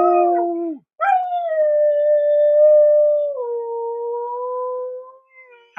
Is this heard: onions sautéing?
no